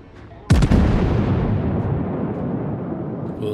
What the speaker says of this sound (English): Love the sound of the battleship guns